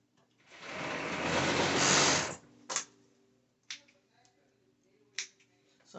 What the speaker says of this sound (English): So what I'm doing, I'm just sewing down the legs open.